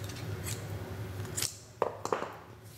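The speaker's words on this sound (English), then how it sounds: "I will cut this yarn." Scissors snipping through cotton yarn after a crochet chain, a few quick close cuts in sequence with short sharp clicks near the end, no talking.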